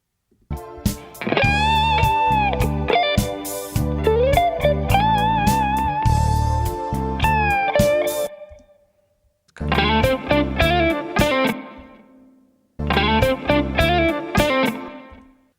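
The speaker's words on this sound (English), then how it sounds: "now with the reverb it sounds better" An electric guitar solo with a reverb effect plugin plays sustained, bending lead notes over a steady backing, pauses briefly, then resumes in two shorter phrases that ring out with lingering reverb tails.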